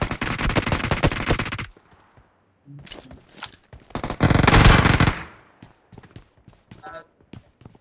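Gunfire in a shooter video game comes in rapid automatic bursts, loud and dense at the start and again mid-clip, with scattered single shots and footstep-like taps between.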